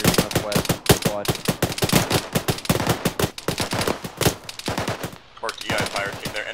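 Rapid bursts of close, loud automatic rifle fire from a squad engaging the enemy, dense volleys cracking almost continuously with a short lull near the end.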